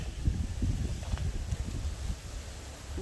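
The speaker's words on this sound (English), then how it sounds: "the wind is so strong, and some of my hanging plants are swinging" Strong wind gusts roar and buffet outdoors around swinging hanging plants, a low, rumbling rush that rises and falls for several seconds, with no speech.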